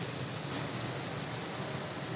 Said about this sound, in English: it is raining today